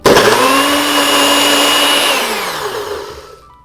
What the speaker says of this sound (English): So I'm just going to blend this. I have my NutriBullet here.